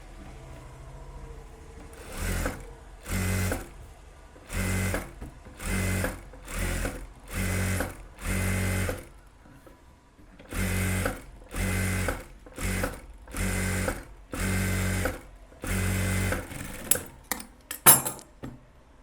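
A sewing machine stitches the back panel of a blouse in a long series of short, evenly spaced bursts. The runs start and stop regularly, and a quicker cluster of bursts comes near the end, close by and clear with no talk.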